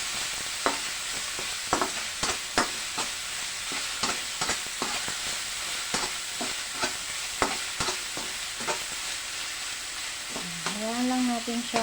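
Garlic and onion sautéing in a pan for squash soup with squash leaves, a steady close sizzle broken by frequent sharp scraping clicks of stirring, with no talking.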